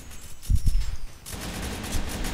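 A sentry gun fires in the shooter game Arctic Combat, a quick burst of rapid shots followed by a sustained stretch of automatic gunfire and noisy battle ambience.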